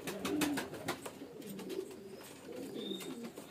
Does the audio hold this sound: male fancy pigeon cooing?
yes